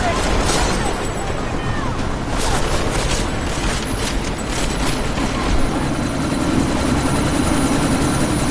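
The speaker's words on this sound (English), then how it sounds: "you need to disable that chopper" Helicopter in the video game Deus Ex: Mankind Divided, its rotor thumping loud and continuous through a sandstorm, with booming effects and gusting noise layered over it and voices speaking now and then.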